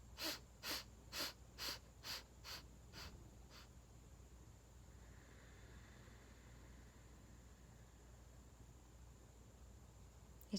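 Seven quick, forceful breaths in a breathing exercise pump out in a steady rhythm, each fainter than the last, then give way to quiet, soft room tone.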